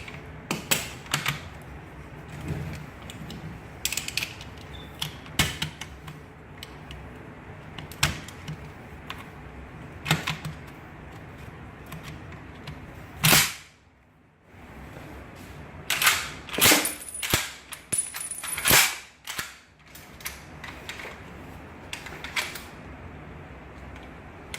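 An M1 Garand rifle's clip lock bar mechanism is worked by hand, giving sharp metallic clicks and clacks at irregular intervals, several loud snaps near the middle, with quiet gaps between handling noises.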